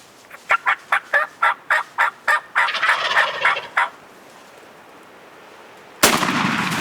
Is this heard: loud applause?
no